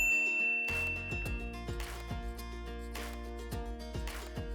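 Bell-like notification ding effects, a series of bright metallic chimes and clinks struck in quick irregular succession over a sustained tonal background, loud and close with no speech.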